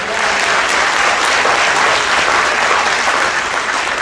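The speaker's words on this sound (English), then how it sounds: "Give Hudson a round of applause." An audience on a cruise ship magic show claps after a card trick, a loud, dense and steady round of applause filling the whole stretch without pause.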